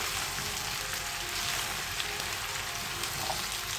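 Chopped bottle gourd pieces sizzle steadily in a hot pan with onions, a continuous bright hiss of frying with faint crackles and no talking.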